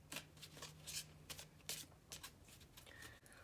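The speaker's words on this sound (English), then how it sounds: "And then I'm going to give the deck another shuffle." A deck of playing cards is shuffled in a close, quiet performance of a card trick: several crisp riffling bursts with short pauses between them, soft and close to the microphone, with no voices.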